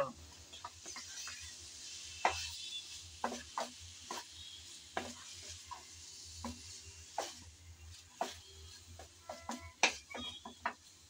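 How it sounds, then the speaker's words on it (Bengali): Ginger-garlic paste is stirred in a pan, with a faint sizzle and a string of irregular soft scrapes and taps of a spoon against the pan, quiet and close, with occasional faint background noises. "আদা আর রসুন বাটা দিয়ে আবারও নেড়ে চেড়ে ভালোভাবে মিশিয়ে নেব।"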